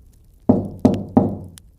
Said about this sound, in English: And that's when it knocked back. 3 slow knocks